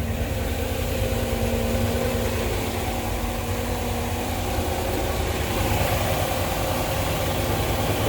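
A steady low engine idle rumbles continuously in an engine room with a faint mechanical hum, unchanging throughout and close by.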